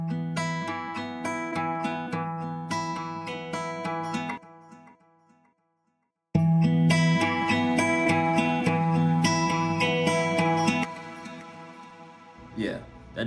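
Clean, dry guitar played without an amp plugin, chords ringing for a few seconds, a short silence, then playing resumes with a lighter tail near the end.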